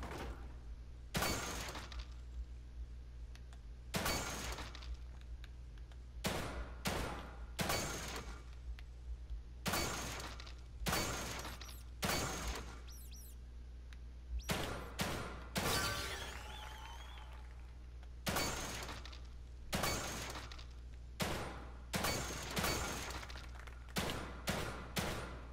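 Gunshots ring out in a shooting test in The Evil Within 2, a steady series of sharp, loud single shots with shattering impacts, spaced irregularly across the stretch over a low constant hum.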